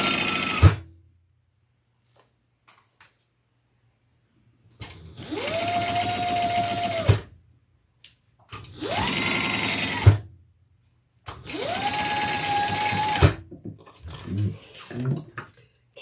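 A sewing machine stitches lining pieces for a Juli garment in three sustained runs of two to three seconds each, with its motor whining up to speed. The runs are separated by quiet pauses with small clicks.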